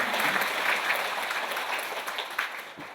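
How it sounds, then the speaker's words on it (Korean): A church congregation claps together during an evening revival service, a dense, steady round of applause filling the hall before it starts to thin toward the end. "먼저 우리 하나님께 박수로 영광을 돌렸으면 좋겠어요."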